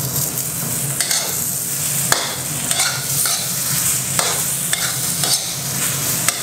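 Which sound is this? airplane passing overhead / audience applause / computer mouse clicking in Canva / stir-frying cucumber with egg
stir-frying cucumber with egg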